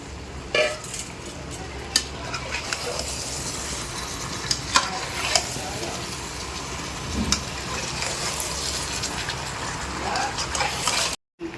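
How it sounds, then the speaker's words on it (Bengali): Potatoes going into a pan of thin chicken curry, sizzling steadily as a spoon scrapes and stirs, with occasional clinks of utensil on metal; no talking. "এবার আলুগুলো দিয়ে দিচ্ছি"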